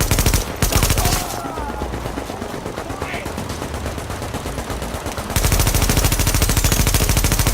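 Rapid continuous automatic fire from an ACR rifle in a video game, loud and close, with a brief pause early on and a heavier burst near the end, and a voice talking under it.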